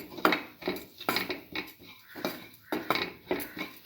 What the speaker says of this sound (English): mix with the rest of the mixture.